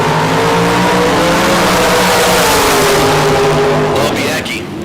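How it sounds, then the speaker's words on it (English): A bantam dragster launches hard off the starting line at a bracket drag race, a loud, sustained engine roar that holds for several seconds before dropping away abruptly near the end. "Lorbiecki in the bantam that just violently leaves the starting line"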